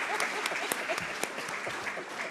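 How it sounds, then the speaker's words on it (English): Applause at a Namibian public-private forum, a modest scattering of claps from the audience, moderately faint and brief with a few sharper individual claps standing out. "A round of applause for the two, please"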